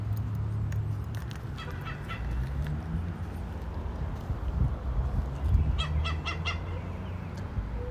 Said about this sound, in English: It's a funny sounding bird.